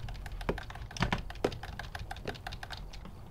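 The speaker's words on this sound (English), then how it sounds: "Sorry if you can hear the clacking on my keyboard" Computer keyboard keys clack steadily during typing, with several sharper, louder strikes standing out from a quicker, fainter patter of keystrokes close by.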